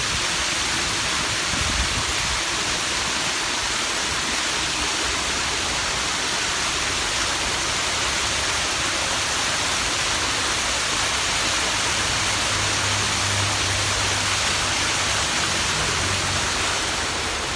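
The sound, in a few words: waterfall at Niles Veterans Memorial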